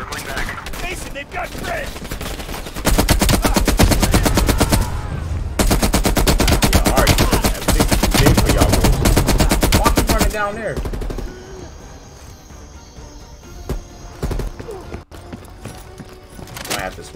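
Heavy automatic gunfire rattles in the Call of Duty Black Ops Cold War video game, sustained rapid bursts separated by short breaks before fading into quieter in-game ambience, with voices talking over it.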